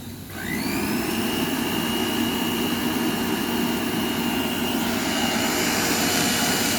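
An old Regina Electricbroom vacuum cleaner switches on and runs at a steady, loud whine with a rising motor pitch, a continuous close-up roar with no voices.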